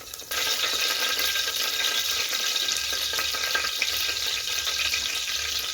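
A bay leaf, a cardamom pod and a couple of cinnamon pieces fry in oil for vangi bath, a sudden onset of steady close sizzling that stays even and dense with faint stirring throughout.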